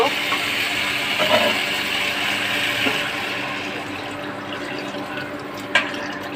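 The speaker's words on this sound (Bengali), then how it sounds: "এবার আমি পরিমাণ মতো পানি দিয়ে দেব।" Water pours into a pan of taro and potato curry, a steady rushing splash that runs evenly for several seconds before easing, with a small knock near the end.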